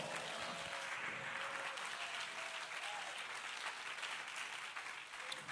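A church congregation applauds during a French-language sermon, steady dense clapping that fills the space evenly and holds for several seconds before tapering slightly at the end, with no voices over it.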